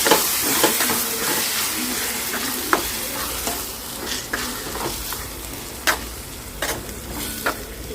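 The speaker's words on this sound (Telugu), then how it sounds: "సో కొంచెం ఇది బాగా వేగిన తర్వాత మనం గ్రైండ్ చేసి పెట్టుకున్న టమాటాని వేసేయాలన్నమాట." Ground tomato frying in a pan, a steady close sizzle with periodic scraping strokes of the spoon as it is stirred, no talking.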